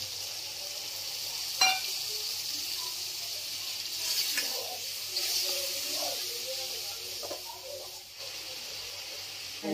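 Jackfruit (theibong) frying in a pan for thongba gives a steady, soft sizzle with faint hiss, fairly close and continuous, with a few light stirring scrapes and small pops scattered through.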